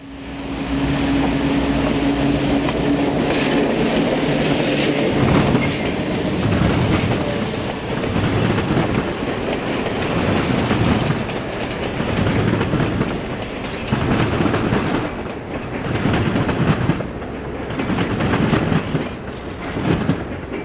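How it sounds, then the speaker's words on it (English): Penn Central train 355 from Detroit to Chicago, still in New York Central livery, rolls past loud and close, with a steady roar and rhythmic clickety-clack of wheels over rail joints repeating every couple of seconds. "PC Train 355, running from Detroit to Chicago, is still in pure New York Central livery"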